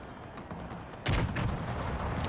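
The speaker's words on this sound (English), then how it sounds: "The howitzers have not proven to be as effective." Howitzer artillery fires in a Napoleonic-era battle game, with a sharp loud boom about a second in over a steady din of distant battle, followed by fainter reports.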